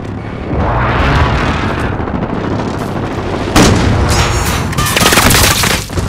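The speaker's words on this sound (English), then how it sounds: "Be advised, friendly precision airstrike inbound." Heavy precision airstrike explosions in Call of Duty: Modern Warfare (2019) during a headquarters fight, a loud rolling barrage that swells, then a sharper blast hits midway, followed by continued booming and crackling debris.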